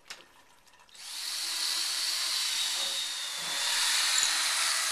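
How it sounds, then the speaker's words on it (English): A power drill starts up after a moment of quiet and runs continuously with a steady high whine, pre-drilling holes in wood for lag bolts to mount an iron railing, getting louder near the end. "pre-drill our holes."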